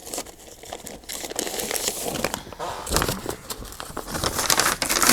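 Tea-dyed paper is handled and crinkled up close, with irregular crackling rustles and sharper crunches that grow busier toward the end, with no talking.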